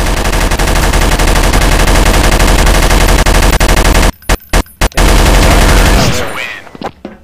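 An M249 machine gun in Counter-Strike: Source fires full auto as one long, loud, unbroken stream of rapid shots, then a few short separate bursts before the sound trails off.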